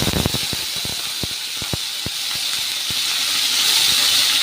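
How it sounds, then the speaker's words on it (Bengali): Salted, turmeric-rubbed prawns go into hot oil in a wok, and a loud, steady hiss of frying sounds close up, with scattered sharp pops and crackles early on that thin out as the sizzle continues. "কড়ার মধ্যে তেল দিয়ে দিয়েছি, চিংড়ি মাছটা দিয়ে দেবো।"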